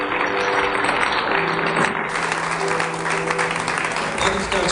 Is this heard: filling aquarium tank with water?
no